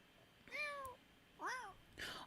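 A cat in a life-simulation game gives three short meows in quick succession, clear and fairly soft, with no talking over them.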